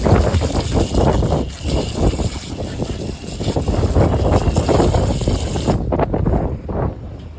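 A filthy walk-in freezer coil being washed out: a loud, rough spray of water pounding against the coil with a fluctuating rush, going on for nearly six seconds before it stops abruptly.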